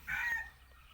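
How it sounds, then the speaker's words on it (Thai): A captive chicken, a tethered bird set out on the ground, gives a single short cluck, close and fairly faint, with quiet surroundings afterward. "ไก่เฉลยครับ ตัวที่ถ่ายคลิปวันก่อนนะครับ"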